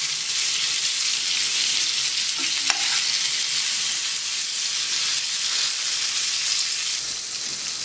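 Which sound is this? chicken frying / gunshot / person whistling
chicken frying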